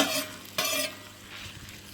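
Onions frying in a pan for a Bombay street food sandwich make a close, steady sizzle with a couple of sharp scraping stirs.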